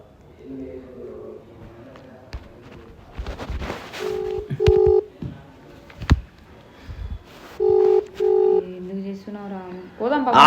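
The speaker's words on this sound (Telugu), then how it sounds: "ఇప్పుడు మనం ఫోన్ చేస్తావు" Telephone keypad tones beep in two short bursts of several dual-tone presses, heard over a person talking.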